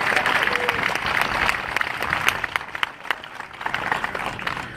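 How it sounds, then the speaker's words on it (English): A crowd at a vehicle presentation for a military veteran applauds steadily, a dense wash of clapping at close range that holds for the whole stretch with only slight dips. "let's go ahead and give her and her father a round of applause"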